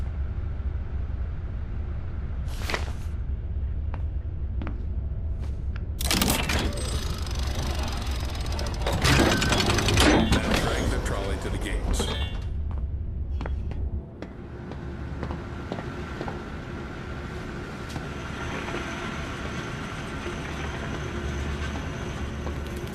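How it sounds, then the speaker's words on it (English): Lever being pulled to lower a gadget trolley in the video game Zoochosis, bringing loud mechanical clanks and grinding bursts over a low rumbling drone, followed by a quieter steady machine hum. "Now activate the lever to lower the gadget trolley."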